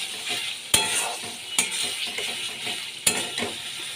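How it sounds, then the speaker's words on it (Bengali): Potatoes being stir-fried in a pan with a cauliflower dish in progress, a steady sizzle broken by three sharp spatula knocks against the pan, close and clear. "আলু দিয়েও আবার ভালো করে আমি কষিয়ে নিচ্ছি"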